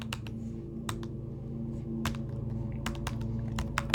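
Computer keyboard keys tapped in short irregular bursts while entering a number into C++ code, crisp close clicks over a steady low electrical hum, no voices.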